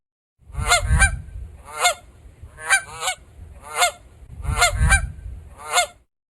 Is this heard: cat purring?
no